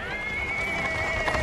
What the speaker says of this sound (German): Und da kommt ein Pferd.